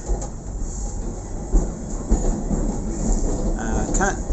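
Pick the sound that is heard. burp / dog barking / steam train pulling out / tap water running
steam train pulling out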